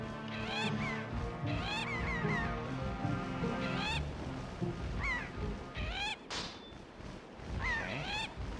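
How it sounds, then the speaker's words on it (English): Seagulls in The Legend of Zelda: The Wind Waker give repeated squawking, honking calls in quick bursts, loud and close over a busy game backdrop, with no talk. "Nope, just an ordinary seagull."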